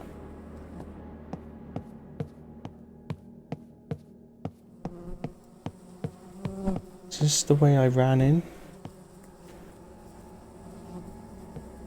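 Insect flies buzzing in the horror game Close to the Sun, a steady drone under a regular tapping of footsteps, then a louder, closer buzzing swell near the end while someone speaks briefly.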